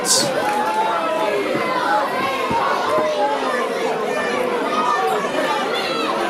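A wrestling arena crowd at an Odyssey Pro Wrestling show roars and chatters loudly and continuously, a dense wash of many voices with shouts rising out of it.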